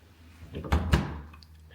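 A kitchen drawer or dishwasher door in a small home in Norway is pushed shut, giving two close, dull thumps in quick succession over quiet room tone.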